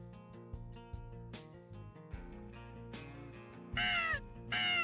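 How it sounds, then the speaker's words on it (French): Crows caw twice, loud and harsh, near the end during a foggy-morning crow hunt over farmland, following a stretch of steady tonal music with no talk. "une autre corneille surgit du brouillard"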